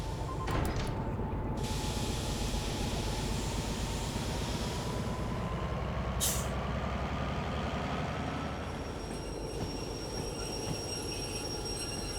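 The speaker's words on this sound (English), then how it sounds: "we'll put train brake on" A train's air brake is applied in the train simulator Derail Valley, giving a loud, steady rushing hiss with rail rumble and faint squeal, and one short sharp burst of air midway.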